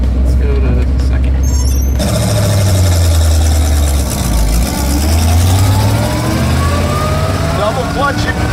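Engine of a moving car shifting into second gear with double clutching, a loud steady drone with low rumble and a brief dip in revs as the gear changes, rising again after; people talk faintly over it.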